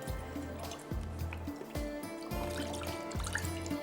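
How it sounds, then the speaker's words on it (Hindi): Full cream milk poured into a cooking pot, a steady liquid stream with splashing and gurgling that runs continuously for several seconds. "ज़बरदस्त सा ऑल पर फुल क्रीम मिल्क, ये हम इसमें डालेंगे"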